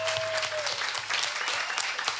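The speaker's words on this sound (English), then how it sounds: "How about a round of applause for Ellery back there?" An audience at a benefit concert claps steadily, dense applause from a crowd that stays near and even in level for the whole stretch, with no talking.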